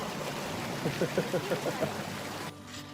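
Creek water flows in a steady rushing wash during a canyon hike, with a short run of soft rhythmic splashes partway through, like footsteps wading in the shallow water.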